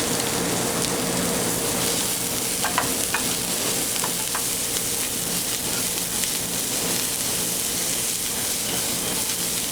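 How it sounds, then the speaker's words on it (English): Shallots frying in butter in a pan while making chicken Dijon: a steady, close sizzle with faint crackles and occasional stirring scrapes, no talk. "At this point, I'm going to add my shallots. All right, little dry, going to add a little bit of butter to this."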